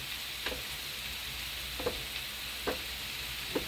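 Food sizzles quietly in a pan while a tomato sauce is stirred, with a constant soft frying hiss and a few faint scraping knocks of the spoon at irregular intervals.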